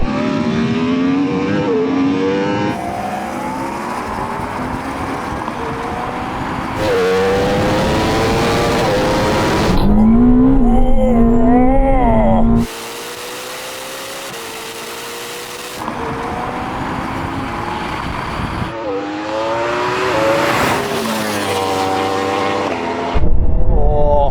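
Yamaha R1M, Porsche Taycan Turbo GT and Ferrari SF90 run a drag race, with loud engine roars in repeated segments, rising revving sweeps and abrupt cuts between close and quieter passages, with no talk.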